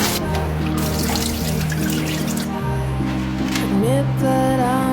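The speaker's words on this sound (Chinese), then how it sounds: "过一遍水" Water pours and trickles over peeled garlic cloves being rinsed in a kitchen, a steady close splashing with a few higher dribbling notes toward the end.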